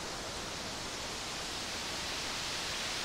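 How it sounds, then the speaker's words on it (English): Synthesized ocean surf from a VCV Rack noise module, a dense, steady hiss of filtered noise that fills the whole span without pause, soft and even like breaking water. "the ocean sound, the water sound, made by this noise module, this utilities module,"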